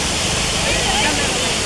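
Lauke waterfall in Nuwakot, Nepal, pours in a dense, loud, unbroken roar of falling water, close and steady throughout the short stretch.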